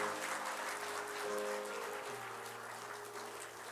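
An audience in a church claps steadily to welcome an award recipient during a Sunday service, the applause dense and sustained throughout, with faint tonal hum in the background.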